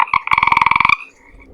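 A voice imitates a bullfrog being squeezed by a boa constrictor. It gives two short croaks, then a fast run of loud, close, rhythmic throaty croaks that trails off into a faint tail.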